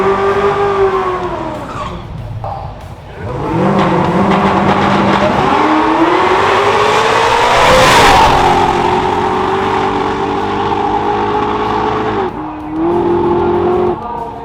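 A 900-horsepower 1969 Camaro makes a race pass at LS Fest East, its engine roaring loud and close as it revs and shifts through rising pitches, with tire squeal and a long, sustained acceleration.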